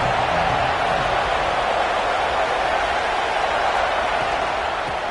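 Steady stadium crowd roar from the NCAA 26 college football video game, a dense, even wash of many voices holding at a constant level throughout with no breaks.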